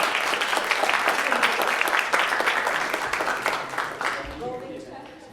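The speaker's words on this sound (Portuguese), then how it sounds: "Mais uma salva de palmas." Audience applause rings out at a science outreach closing event, a dense, loud burst of many clapping hands that slowly thins and fades toward the end.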